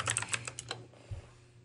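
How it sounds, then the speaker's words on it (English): A short burst of typing on a computer keyboard, about six quick close key clicks in the first second, then a softer tap, with no talk. "I'm going to type in parents."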